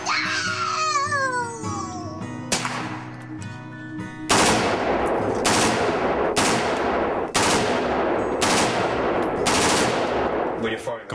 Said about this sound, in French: Quand vous tirez à la mitrailleuse